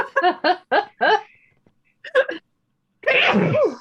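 A run of four or five quick, sharp sneezes close up, then a pause, a short stifled sneeze, and a voice reacting afterward.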